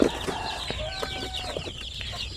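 Chicks peep and chirp from inside a cheap cage, high repeated cheeps close by over a low background hum, with no one talking.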